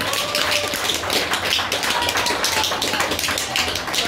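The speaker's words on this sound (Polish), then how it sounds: "Wielkie brawa!" Steady, dense audience applause at a Warsaw market-pepper and fast-spoon eating championship, loud and close, with crowded hand claps sustained evenly throughout without a break.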